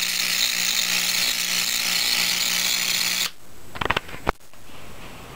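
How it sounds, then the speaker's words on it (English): A small homemade Tesla coil runs with a loud, steady buzzing hiss for several seconds, then cuts off and leaves a few sharp crackles and clicks before quiet. "that's my mini Tesla coil"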